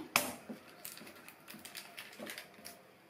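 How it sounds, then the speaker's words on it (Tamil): A knife cuts through the stems of a bunch of spinach on a board. One crisp snap comes first, then a steady run of lighter, irregular clicking taps close up. "கீரையை கட் பண்ணும்போது இந்த காம்பு பகுதியை ஃபுல்லாக கட் பண்ணிடணும்."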